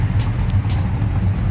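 Steady low-pitched V8 idle from a 1968 Chevrolet Chevelle, an even rumble with no revving, close by and fairly loud.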